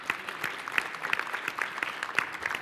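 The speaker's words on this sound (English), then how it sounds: "How about a round of applause for them?" Brief, fairly faint round of clapping from a small conference audience, individual claps audible in an uneven patter.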